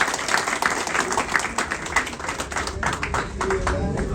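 An audience at a National Youth Day gathering applauds Rajyogi Anil Bhai with steady, fairly loud clapping, spread through a crowd and continuing for several seconds, with a faint tone briefly audible underneath.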